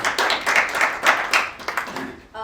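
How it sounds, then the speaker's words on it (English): An audience at a college event claps in a short burst of scattered, close applause that thins out toward the end, with some voices mixed in. "Also, great to applaud, but let's hold the applause."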